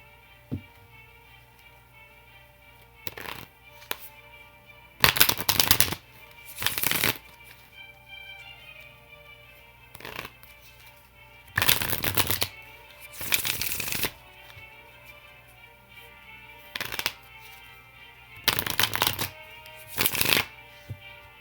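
A Connolly Tarot deck and ordinary playing cards are shuffled up close, producing repeated crisp riffling bursts of a second or two each, separated by quiet pauses.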